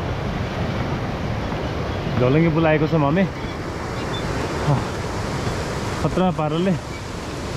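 A swollen mountain stream fed from Gosaikunda lake rushes steadily in a broad, constant roar, with a woman and another person speaking over the flowing water.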